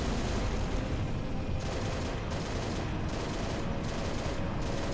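Dense, continuous roar of heavy gunfire and explosions from a Falcon helicopter's mounted guns in Halo: Reach, loud and unbroken with faint periodic shifts in texture.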